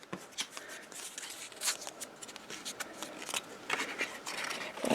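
Paper being folded along score lines in a craft project, heard as a close run of crisp rustles, creases and light handling sounds throughout.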